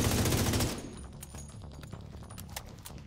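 Automatic weapon fire in the video game The Division 2 opens with a loud sustained burst for well under a second, then drops to scattered softer shots and thuds in the background.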